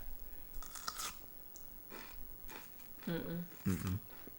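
Someone bites and chews a crunchy, unripe shinseki Asian pear, giving several close, crisp crunches in short bursts with quiet gaps between them.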